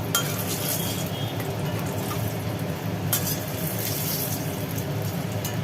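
Fried pointed gourd pieces are lifted one by one from a frying pan in a home kitchen, with light metallic clinks of a utensil against the pan over a steady background hiss.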